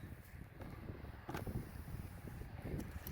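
Wind buffets the microphone on an open disc golf course, a steady low rumble with occasional faint rustling gusts.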